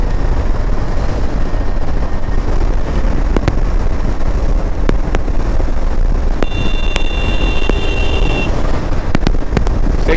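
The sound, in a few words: KTM 250 Adventure motorcycle riding in fifth gear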